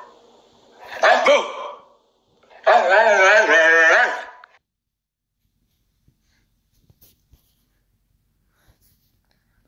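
A dog in the Ice Scream 6 video game gives two close, loud, drawn-out barking vocalizations, followed by several seconds of near silence with faint clicks.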